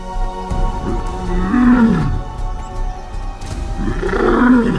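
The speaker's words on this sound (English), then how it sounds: "These roars declare not possession of territory, but availability." Male lions roar across open African savanna hunting ground, two deep, drawn-out roaring calls that rise and fall, loud and close over a low rumbling background.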